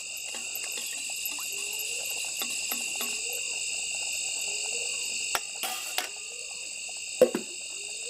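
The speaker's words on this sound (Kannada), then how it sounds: "ಇವಾಗೊಂದು ಪಕ್ಷಿ ಕೂಗ್ತಾರೆ ನೋಡಿ" A bird calls outdoors at night in a village yard, brief calls rising and falling at mid distance over a constant shrill chorus of crickets and insects, with a few soft knocks and clicks nearby.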